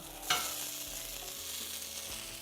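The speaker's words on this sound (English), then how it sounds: "And now we are gently going to take the sandwich and flip it" Sandwich flipped in an oiled pan, a sharp thump of the turn followed by a steady, quiet frying sizzle close by.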